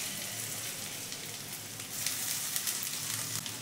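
Ginger garlic paste hits hot oil with already fried onions, giving a steady close sizzle and frying crackle that swells louder partway through, with no voices.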